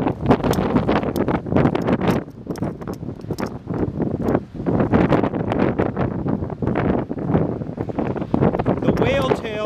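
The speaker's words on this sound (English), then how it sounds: "It's the heavy winds of Hurricane Irene." Heavy hurricane winds of Hurricane Irene in New London, Connecticut, roaring and buffeting a microphone continuously and loudly, with gusty surges throughout and bursts of rustling noise.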